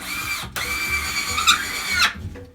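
A power screwdriver drives a screw into a wall stud in two close, loud bursts of whirring with a brief pause between them.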